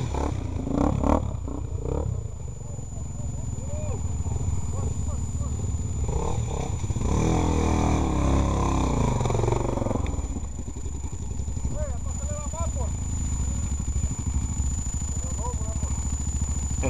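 Motorcycle engine revving and accelerating on a muddy dirt trail, the throttle rising and falling at close range with clattering, while people shout and talk over it.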